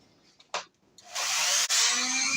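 Dremel rotary tool grinding a half-rusted Brades hammer, with a few short scrapes before it settles into a sustained, loud, steady high-pitched whine close by.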